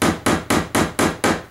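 Six sharp, evenly spaced hammer taps in quick succession while reinforcement webbing is fixed into a wooden beehive frame, close and crisp with no talk.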